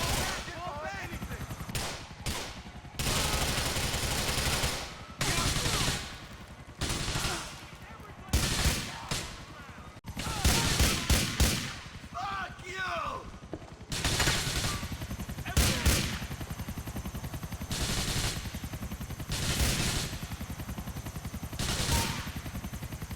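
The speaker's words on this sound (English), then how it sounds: "Upon recovering the powder, the police arrive, so I shoot my way out." A video-game police shootout erupts in bursts of loud gunfire and rapid automatic volleys, broken by short pauses, with the shots close and dominating throughout.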